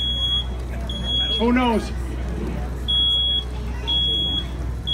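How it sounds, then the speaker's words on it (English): Intermittent high-pitched smoke detector beeps in a house, sounding in repeated short bursts alongside a steady electrical hum, with a person speaking briefly between the tones. "So we hear that smoke detector."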